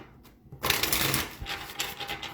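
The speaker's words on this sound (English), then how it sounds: "Gonna go ahead and shuffle this for our Earth signs." Tarot cards are riffled and shuffled close by in a single brisk burst of papery flutter after a quiet start, with no voice over it.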